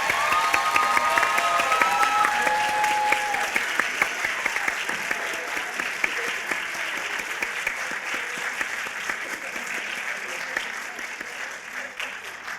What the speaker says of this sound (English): let's give our winners and finalists a huge round of applause